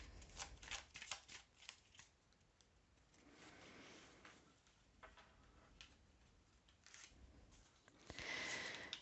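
Tarot cards shuffled by hand in repeated papery riffling bursts, close and fairly quiet, with a brighter flurry of cards near the end and no talking.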